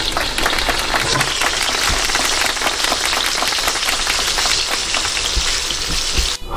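Loud, dense, continuous sizzling of steak meat frying on a hot plate, a steady crackling hiss throughout with no talking.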